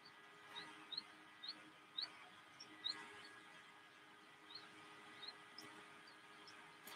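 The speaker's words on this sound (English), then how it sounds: "so we can hear lovebirds. I can hear the grey go-away bird," Several birds call around a waterhole hide, lovebirds and a grey go-away bird among them, giving short high chirps scattered every second or so over a steady faint background hum, fairly distant and without talk.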